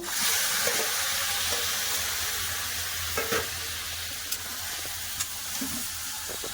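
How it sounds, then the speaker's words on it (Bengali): Yogurt-marinated meat sizzles steadily in hot oil seasoned with Kashmiri chili powder for a Bengali mangsho kosha, with a continuous frying hiss and a few soft stirring clinks close by. "এবার দিয়ে দেবো দইয়ের মাখানো না মাংস"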